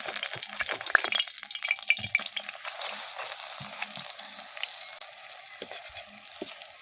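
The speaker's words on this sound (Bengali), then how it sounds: "আমি তিনটে ভেজে নিচ্ছি তারপর ওগুলো আবার ভেজে নেব" Grated pumpkin tikki fry in hot oil in a pan, giving a loud, steady, close-up sizzle full of bubbling crackle that eases slightly toward the end.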